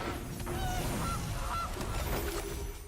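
A goose honks in the MTG Arena card game as a Goose card is played, giving a few short honks over steady game music and background noise, with no talk.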